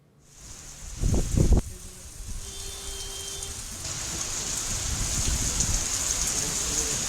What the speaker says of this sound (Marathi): अचानक पाऊस आल्यामुळं आपण बघतोय की अनेकांना या ठिकाणी